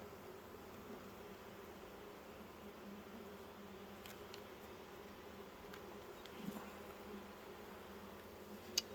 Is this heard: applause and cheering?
no